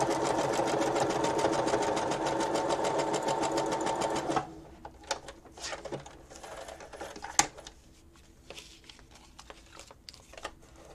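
A sewing machine runs steadily for about four seconds while stitching Christmas cluster decorations, then stops, leaving light handling clicks and rustles of fabric and thread.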